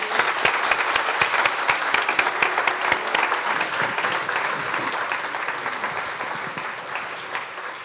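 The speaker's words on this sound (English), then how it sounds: "let's give them a round of applause" An audience claps steadily at a community recognition event, a dense sustained applause filling the room for the full stretch and tapering slightly toward the end.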